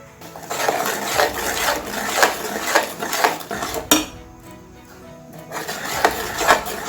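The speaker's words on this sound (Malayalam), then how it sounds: "ഇത് നന്നായിട്ട് ഇളക്കി കൊടുക്കുകയാണ്" Metal spoon stirring thick onion lehyam in a pan, a steady run of scraping and clinking strokes against the pan base, close and fairly loud, with no talking.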